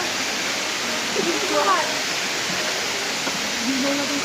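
Steady rushing roar of Balite Falls in Cavite, a broad even wash of falling water filling the scene, with faint voices passing briefly over it.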